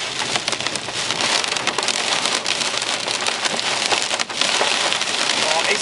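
Hail up to about 1.5 cm pelting a car driven through a thunderstorm line, a dense, loud, continuous drumming and rattling on the roof and body with no pauses.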